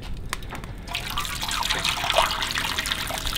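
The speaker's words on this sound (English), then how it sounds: "let's add the water to the water pan" Water pours and trickles steadily into a smoker's water pan, a continuous splashing stream after a brief quieter start.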